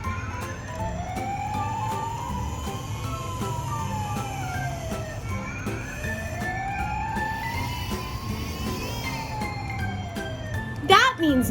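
Toy ambulance siren wailing in a steady rising-and-falling sweep, loud and close, repeating twice before a brief clattering burst at the end.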